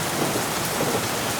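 Heavy rain pours in a steady, dense hiss with thunder rumbling through it, close and constant for the whole moment, with no voices.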